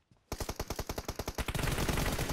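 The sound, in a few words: gunfire in video game PUBG Mobile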